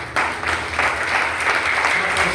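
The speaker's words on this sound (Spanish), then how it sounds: "Denle un aplauso fuerte al Señor." Church congregation applauding during a Spanish-language worship service, a loud, dense burst of clapping that starts abruptly and holds steady throughout.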